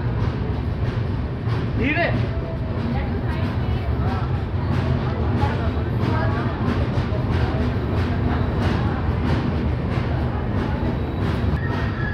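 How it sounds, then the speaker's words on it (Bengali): The Dhauli Superfast Express pulls into Cuttack Junction with a steady, loud rumble of rolling coaches and rail clatter throughout. A brief wheel squeal rises near the start, and faint station chatter mixes in. "দুপুর প্রায় 12:30টার সময় ট্রেন এসে পৌঁছালো কটক জংশন"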